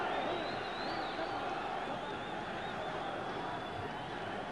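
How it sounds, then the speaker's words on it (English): Continuous roar of a large boxing crowd shouting for Floyd Patterson in his 1970 bout with Charley Green, a sustained, fairly loud wall of voices with a faint high whistle-like tone running through it. "The crowd is yelling, "Let's go, Floyd.""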